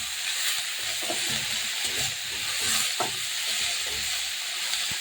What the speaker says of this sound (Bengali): আমি দেখুন শাক দিয়ে দিচ্ছি।